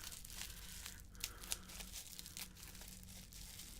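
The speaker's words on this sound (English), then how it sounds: "ripping the tape off of it" Packing tape rips and crinkles off a mail-order unboxing package in a continuous, faint, close-up tearing rustle with a couple of sharper snaps, no talking.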